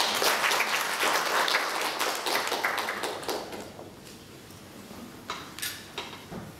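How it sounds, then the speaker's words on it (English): Clapping for the panelists at a breakfast debate starts dense and lively, then thins out over several seconds until only a few scattered claps remain in a quieter room. "Thank you very much to the panelists. I think they deserve another round of applause"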